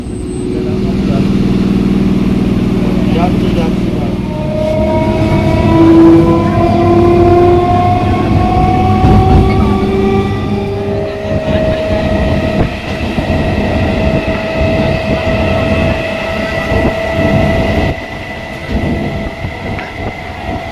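Goghat Local passenger train running from Howrah to Haripal, loud continuous rumble and clatter of the moving carriages with a long sustained horn blast, heard from on board.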